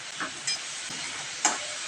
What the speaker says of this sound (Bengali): এবার আমি এটাকে ভেজে রাখবো, শুধু তেল দিয়ে ভেজে দেবো।